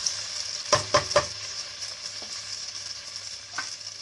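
Ingredients for dry veg Manchurian, with soya sauce and vinegar just added, are stirred in a hot pan. A few quick scraping strokes sound over a steady sizzle, then softer stirring follows with no talk.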